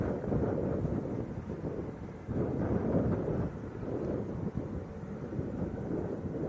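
Wind buffeting the microphone at Leeds Bradford Airport, a rough low roar that surges and eases in gusts and runs through the whole stretch.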